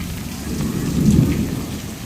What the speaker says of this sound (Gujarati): ને વાત ન પૂછો એટલો વરસાદ આવે